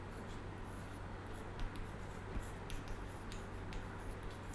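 Pen scratching across paper while writing out an accounting sum, faint and steady with small ticks and strokes over a low hum, no voices.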